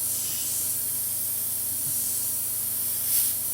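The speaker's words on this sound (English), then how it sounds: "Actually seems to spray fairly well." Steady airbrush spray from an Iwata Neo airbrush hissing continuously, a broad close-up hiss with a faint compressor hum underneath, briefly swelling near the end.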